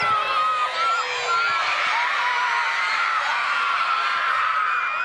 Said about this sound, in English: Showing their support and cheering the Matildas on